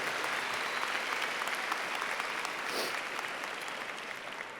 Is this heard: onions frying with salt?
no